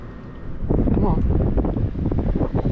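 Steady wind rushes over open water during a redfish fishing trip in rain, a loud continuous roar with buffeting against the microphone that swells after the first half second, with a voice speaking over it.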